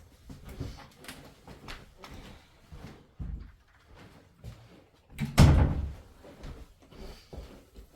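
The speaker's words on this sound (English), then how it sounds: "let me close this door." A door is closed indoors: a few soft handling knocks lead to one loud, solid thud midway, followed by quieter movement sounds.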